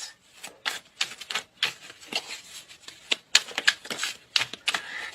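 Tarot cards are shuffled and drawn in a series of quick, crisp riffling and slapping bursts, close and fairly steady, with brief gaps between them.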